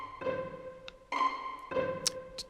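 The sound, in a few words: pizzicato string section sound, plucked strings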